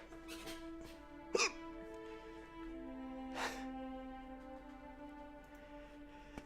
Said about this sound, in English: hiccups are like the body's self-defense mechanism